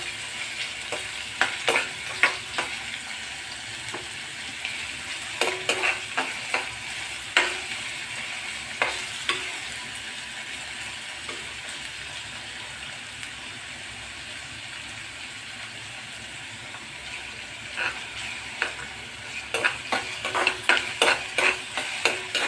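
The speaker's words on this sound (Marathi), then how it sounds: "कांदा टाकतो आता आपण तो कांदा आपण भाजूया थोडासा मऊ होईपर्यंत भाजायचा आहे" Chopped onion frying in oil in a pan, cooked until soft for a chickpea curry: a soft steady sizzle with scattered clusters of spatula scrapes and clinks, close and fairly quiet throughout.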